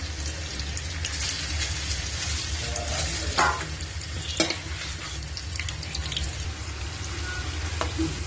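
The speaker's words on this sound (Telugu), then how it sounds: "ఉప్పు పెట్టుకున్న రైల్ని ఇలా డైరెక్ట్గా వేపుకోవాలి" Salted prawns frying directly in a pan with peanut oil for a pickle, giving a steady close sizzle with occasional stirring scrapes and a few sharper clicks throughout.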